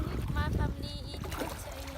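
Kayak paddles dipping and splashing in the water of Halong Bay, brief close strokes under people talking nearby.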